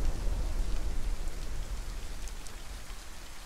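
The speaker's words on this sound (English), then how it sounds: "And of course, it's a freaking thunderstorm." Steady, dense rain from a thunderstorm in the video game DayZ pours down throughout, a loud, even patter with no voices over it.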